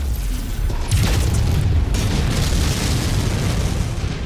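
A missile explosion in the video game MechWarrior 5: Mercenaries: a loud, sustained booming rumble that swells at the start and holds steady throughout.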